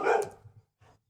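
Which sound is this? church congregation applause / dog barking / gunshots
dog barking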